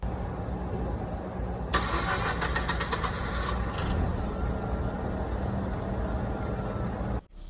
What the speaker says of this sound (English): I'm going to give this car a start. We'll take a listen to the engine and exhaust